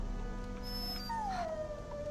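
A dog howls in the fantasy role-playing game Dragon Age: Origins, a single drawn-out falling howl over a steady low background hum, fairly faint and distant.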